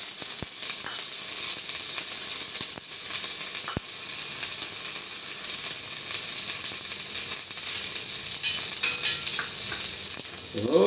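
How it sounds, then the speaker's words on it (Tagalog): Ginger, onion and garlic sauté in a pan for a tuna Bicol Express, making a continuous loud sizzle with occasional clicks of a utensil against the pan. "igisa muna natin itong mga luya, sibuyas, bawang"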